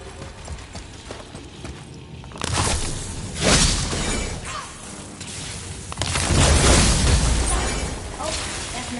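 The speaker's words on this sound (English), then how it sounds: "I don't ever get tired of shattering things with this." Heavy crashing impacts from an axe smashing objects in God of War, two loud broadband bursts around three and six seconds against a busy game background with footstep-like clatter.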